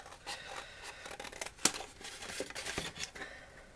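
Scissors snip through stiff card, a few sharp crisp cuts with rustling and crinkling in between, close by and fairly quiet.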